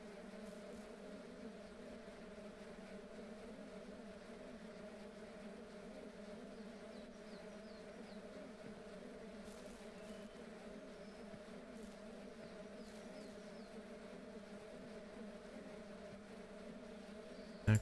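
Steady swarm of bees buzzing continuously in the video game Ranch Simulator, a dense, even drone that stays close and loud for the whole stretch with no talking over it.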